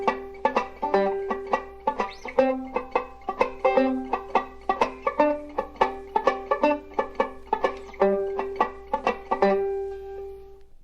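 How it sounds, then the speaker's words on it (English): Five-string banjo vamping chords, with the fretting hand holding chord shapes just enough to mute the strings: a steady run of short, clipped, percussive strums in an even rhythm, close and clear with no voices. "We are holding the chord positions only enough to mute the strings."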